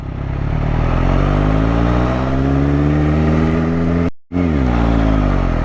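Superbike engine droning steadily with strong harmonic tones that shift in pitch as the bike is ridden and leaned, close and loud, briefly cutting out near the end before resuming.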